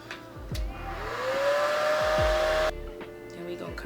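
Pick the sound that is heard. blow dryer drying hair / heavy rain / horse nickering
blow dryer drying hair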